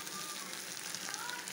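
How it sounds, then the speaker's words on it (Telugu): Steady, close sizzle of sliced potatoes frying in hot tempering oil in a pan, a constant crackling hiss with no pauses. "మనం వెంటనే పోపు పెట్టేసుకున్నామంటే వేగిపోతుంది"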